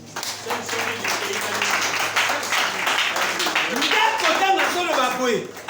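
Church congregation applauding at the Branham Tabernacle, steady dense clapping filling the space throughout, with voices and chatter mixed in beneath.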